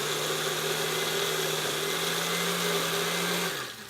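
A blender whirs continuously, mixing roasted potato soup in a steady, loud, even drone that winds down abruptly at the very end, with no voices.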